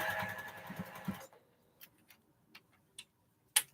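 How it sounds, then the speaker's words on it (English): Sewing machine stitching silk fabric back and forth to lock a seam: a steady mechanical run for about a second, then stops with a few sparse, faint ticks and clicks afterward. "I'm going to sew it back and forward a few times to lock it in"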